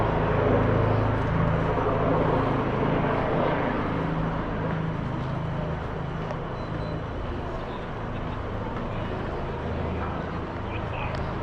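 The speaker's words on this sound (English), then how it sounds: "you can hear the helicopter" Helicopter rumbling overhead above a gathered crowd at a Seattle street corner, a steady low drone mixed with crowd noise throughout.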